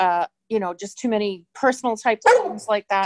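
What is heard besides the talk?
dog barking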